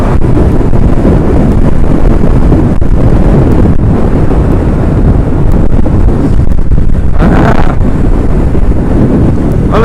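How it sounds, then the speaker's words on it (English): Wind buffets the microphone beside the River Dee, a loud, constant rumbling roar with gusty surges throughout, swamping everything else. "it is windy"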